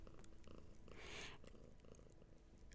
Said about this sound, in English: she's got them purrs